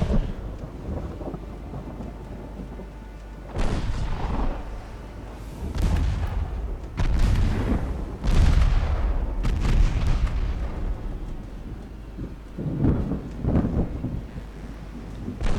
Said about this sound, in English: And all the 3-inch guns are firing.